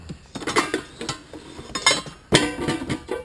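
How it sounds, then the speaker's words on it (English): An aluminum camping plate clinks and clatters against other metal camp cookware, several bright close-up knocks in quick clusters, with no voices. "Aluminum plate"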